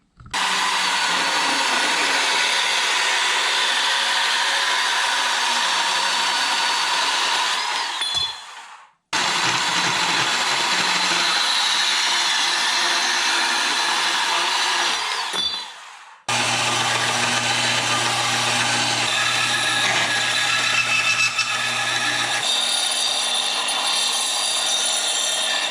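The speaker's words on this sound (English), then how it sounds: "I'm going to go over here and cut this off with my little bandsaw again" A small bandsaw cuts through a rubber radiator hose in three loud, sustained bursts, each ending as the blade spins down, with brief quiet gaps between them.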